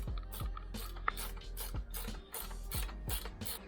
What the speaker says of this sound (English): If you guys have like these tools, what are these, ratchets?